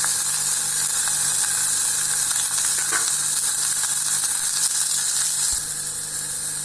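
Onions, green chillies and curry leaves sizzle steadily in hot oil with cumin, a continuous close frying hiss with a faint stir or clink near the end.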